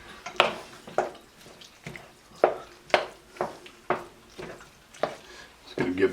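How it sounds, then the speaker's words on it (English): A spoon stirs thick jalapeno popper mac and cheese in a pot, giving a series of soft, regular wet scraping strokes about once a second, close and fairly quiet. "I'm going to switch to a spoon to stir this up better."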